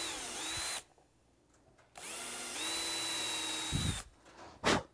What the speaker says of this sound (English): it's important to drill three small pilot holes